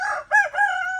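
A rooster crows loudly and close among hens, giving a single full cock-a-doodle-doo in three connected, rising and sustained segments with no talking.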